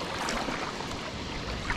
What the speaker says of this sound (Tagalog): Medyo maalon din pala dito.